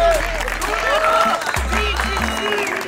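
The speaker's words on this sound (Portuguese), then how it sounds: "Uma salva de palmas pro projeto Revelação da Favela aí." A crowd applauds a favela community project while a voice talks over the clapping and cheering, with a low hum underneath throughout.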